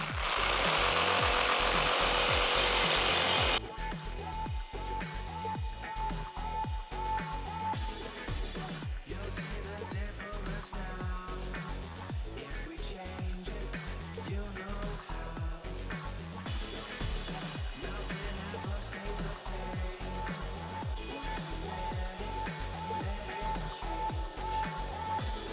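A WORX WX550 multi-saw cuts through an 8 mm board, a short loud burst of motor noise giving way to a steady rapid reciprocating rasp of blade on wood that runs on at an even pace.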